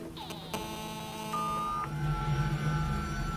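A series of electronic beeps and tones rings out from a phone in a video game, sharp and clear, layered over a low background hum.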